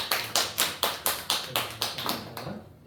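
A church congregation claps in thanks after a sermon: about ten distinct, evenly spaced claps in a slow unison rhythm, crisp and close, fading at the end.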